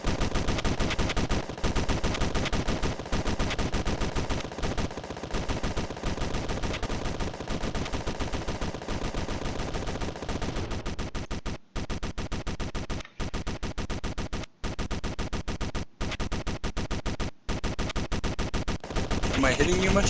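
Turret and autocannon fire in the space combat game Space Engineers: a dense, continuous rattle of rapid automatic gunfire with short gaps near the end, with voices talking over it.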